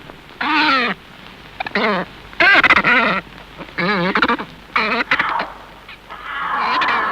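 Ducks or geese at a zoo, recorded outdoors, letting out loud close quacks and honks in repeated bursts separated by short quiet gaps, with a longer rasping call near the end.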